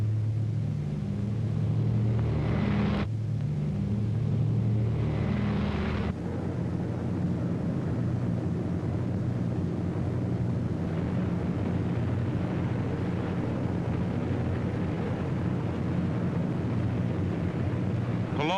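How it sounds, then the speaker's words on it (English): Heavy wartime RAF bomber aircraft engines drone in a dense, continuous low rumble, loud and unbroken, with a harsher roaring layer in the first few seconds that drops away into steady engine thunder. "In June, Hitler's fortress Europe rocked under the terrific pounding of RAF bombers"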